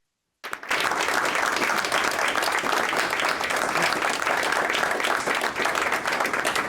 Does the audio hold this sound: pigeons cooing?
no